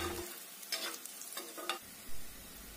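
A spoon stirs fried onions with chili powder in a pan for a morel mushroom curry, giving a few close scraping strokes over a soft background sizzle.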